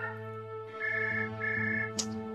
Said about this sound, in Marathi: नयन, तो शलाकाचा फोन वाजतोय बघ